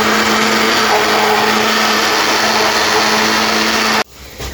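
Five eggs being whipped in an electric blender, milkshake-style, for semolina kheer: a loud, steady motor whir with a constant hum for about four seconds before it cuts off abruptly into quiet room noise.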